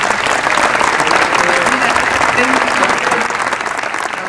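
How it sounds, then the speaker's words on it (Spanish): An audience applauds at a book presentation during an international book fair, loud, dense clapping that holds steady throughout with faint voices mixed in. "Vamos a aplaudirlo para darle gracias."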